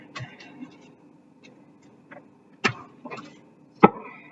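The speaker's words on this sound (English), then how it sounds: "I need a rolling pin to bash my chicken." A rolling pin pounds raw chicken through cling wrap on a cutting board, giving a few dull, irregular thuds with quieter taps between them, close and fairly sharp, with no talking.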